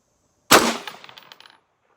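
A single sharp rifle shot from a Bushmaster Varminter fired off a bipod outdoors, loud and abrupt, followed by a rattling decay of echoes that fades over about a second.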